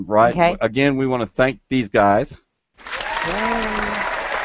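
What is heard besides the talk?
applause sound effect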